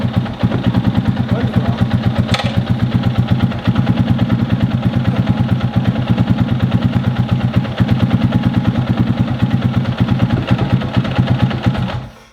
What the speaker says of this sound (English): the bike starts fairly quickly